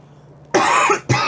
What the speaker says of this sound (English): Sorry there, nursing a bit of a cough